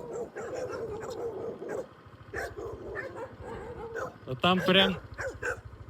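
A pack of dogs on a farm in Phan Rang, Vietnam, barks and yips close by in a steady run of calls, with a loud burst near the end, under continuous talk from people nearby.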